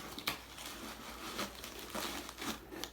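Heavy packing tape is peeled and torn off a package of Mage Knight figures, making crinkly, crackling rips and rustles in short bursts close by, with no talking.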